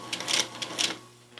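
A sewing machine stitches leather patches in a few short, slow bursts, its needle clattering in quick ticking runs with pauses between, fairly quiet and close, with no talking.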